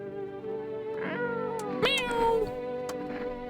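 A cat meows in the horror video game No I'm Not A Human, a drawn-out rising and falling mew over a steady droning game soundscape, close and clear.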